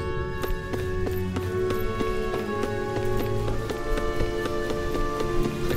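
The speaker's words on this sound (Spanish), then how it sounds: "Llegamos bajo la lluvia torrencial." Torrential rain in the video game Tales of Arise makes a steady, dense hiss under sustained game music, with regular soft thudding steps throughout.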